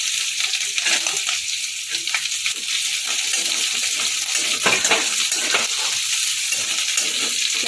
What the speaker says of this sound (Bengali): একটুখানি নাড়াচাড়া করে নেবো একটুখানি ভেজে নেবো